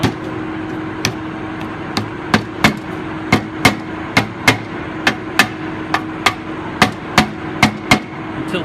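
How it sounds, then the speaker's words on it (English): A hammer taps a seal into a wheel bearing hub, about twenty sharp, evenly spaced metallic knocks over a faint steady hum, close and fairly loud. "what I'm going to do is gently drive the seal in and get it started, and then just move the hammer around"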